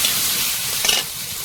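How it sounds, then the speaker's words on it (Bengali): Pumpkin, potato and Malabar spinach stalks frying in oil, a loud continuous close sizzle with a brief stirring swell partway through, no voices. "শুধু তেলে কুমড়ো আলু আর পুঁই ডাঁটাটা দিয়ে ভেজে নেব"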